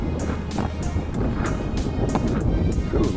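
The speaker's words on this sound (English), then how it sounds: "Windy down here today." Loud wind roars and buffets across the microphone in gusts, a constant low rumble with sharper bursts, no voices.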